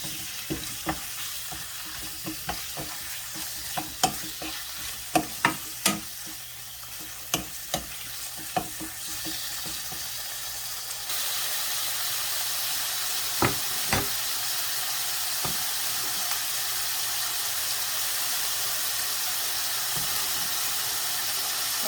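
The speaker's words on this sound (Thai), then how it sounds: "ไก่ก็จะหั่นชิ้นใหญ่ก่อนแล้วผัดไก่ก่อน" Large chicken pieces sizzle steadily in a hot pan while a spatula scrapes and clacks against it in irregular strokes. The frying hiss gets louder partway through.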